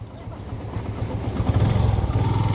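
A motorcycle engine runs close by with a low, throbbing rumble that grows louder and rougher toward the end, as if revved lightly, with a voice faintly under it.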